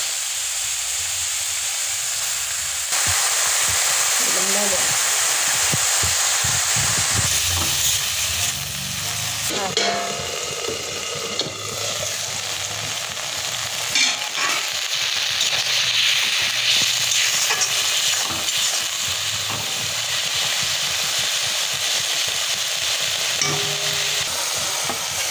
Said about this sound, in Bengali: এই মাছ ভাজা কড়াইতেই একটু তেল দিয়ে দিলাম, একটু শুকনা লঙ্কা দিলাম, এবার দিলাম দুইটা শুকনা লঙ্কা আর একটু জিরে ফোড়ন